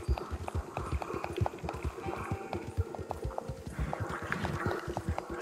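Horse hooves clip-clop in Red Dead Redemption 2, a steady rhythmic run of crisp hoof beats on ground that carries through the whole stretch at moderate volume.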